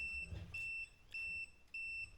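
An ALLPOWERS R2500 power station sounds its error beep, a high electronic tone repeated three times at an even pace, faint against low background noise.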